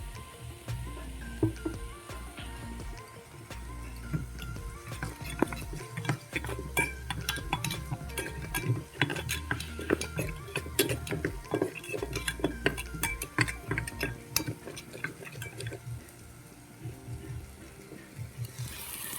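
Cutlery clinks and scrapes against a bowl as ground cumin, turmeric, chili and coriander powders are mixed with a little water for an egg curry, with steady close stirring and intermittent metallic taps and no talk.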